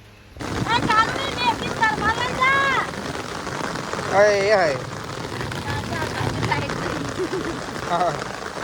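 Rain keeps falling outdoors in a steady patter and hiss while several people talk nearby over it.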